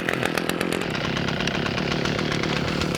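An Echo SRM-410U brushcutter's small two-stroke engine running right after a pull start, a loud, close, continuous buzzing drone.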